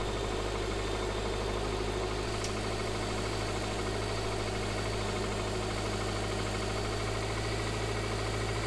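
A car engine cranks over on a cold day without firing, a continuous close mechanical churning with a steady low drone and no catch or rev-up.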